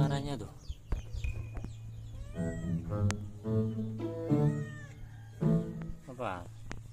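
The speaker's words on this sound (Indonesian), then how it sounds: "Tanda-tanda kucing pengen kawin." Cat in heat giving long, drawn-out wavering meows and yowls, close and loud, with a person talking between the calls.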